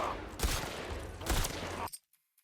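Gunfire from The Last of Us Part II Remastered, played on PC: two loud, dense bursts of shots close together, each trailing off, then an abrupt cut to near silence with a couple of faint ticks.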